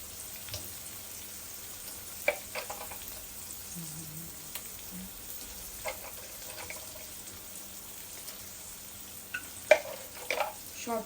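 Cashew nuts frying in a pan give a quiet, even sizzle, broken now and then by faint clicks and scrapes of stirring.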